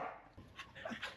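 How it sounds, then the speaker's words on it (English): Several dogs bark excitedly at a squirrel outdoors in Nicaragua, quick faint yaps and whimpers scattered over about a second, heard from a distance at low level. "the dogs were freaking out"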